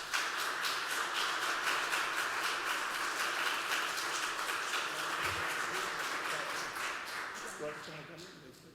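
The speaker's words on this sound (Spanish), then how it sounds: "Démosle una calurosa bienvenida con un aplauso a las integrantes de este" An audience at a panel dialogue event welcomes the panelists with steady, dense applause, heard from some distance. The clapping continues evenly for several seconds, then thins and fades out at the end.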